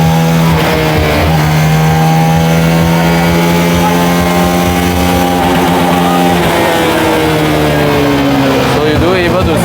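A 149.5cc motorcycle engine revs at a MotoGP booth in Sepang, a loud steady drone with rising and falling pitch under crowd and booth noise, with voices audible in the background.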